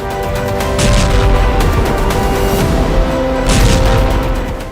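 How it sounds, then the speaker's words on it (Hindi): Heavy explosive blasts roar close by in a loud, continuous rumble, with several sharper bursts cracking through the noise. "दुश्मन पर इजरायल का दूसरा धमाका।"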